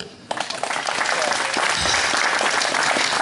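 Applause erupts suddenly at an anniversary celebration of a sports club, building into loud, continuous clapping from a large hall audience.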